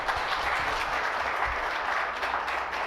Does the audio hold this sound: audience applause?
yes